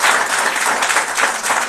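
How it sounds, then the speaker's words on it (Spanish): Church congregation applauding together, a dense, steady wash of clapping that stays loud and even for a couple of seconds, with no voices over it. "Dale un fuerte aplauso a mi Dios"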